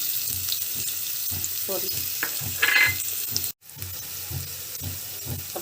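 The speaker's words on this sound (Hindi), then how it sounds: "अब डाल दिया हमने कुटा हुआ लहसुन और भून लिया।" Crushed garlic and cumin sizzle in hot oil in a pan for a tadka, with a steady frying hiss, occasional stirring clinks, and a brief spoken word.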